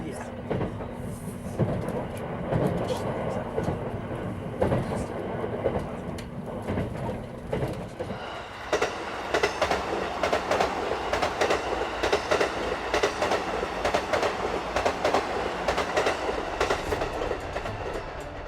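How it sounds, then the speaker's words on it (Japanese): A train running along the Oito Line through snowy northern Alps country rumbles steadily with wheel clatter and rail noise, continuous and fairly loud, with a narrating voice in the early part. "列車は西名山湖のほとりを行く"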